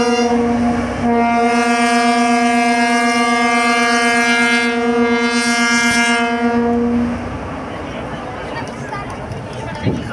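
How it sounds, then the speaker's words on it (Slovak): A Soviet-era diesel freight locomotive blasts its horn in one loud, steady, close chord lasting about seven seconds, then cuts off and leaves softer engine and ambient noise behind. "Skús nám zatrúbiť, Sergej, ešte."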